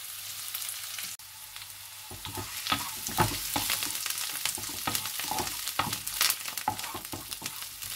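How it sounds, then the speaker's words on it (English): Chilli chicken frying in a pan with curry leaves, restaurant style, giving a steady close sizzle with repeated scraping and stirring clatters throughout, no voices. "Just fry this for about a minute."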